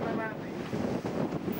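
Strong wind buffets the microphone on a boat at sea in the North Sea during a wreck-diving salvage attempt, a steady roaring rush with gusty swells and the wash of waves underneath.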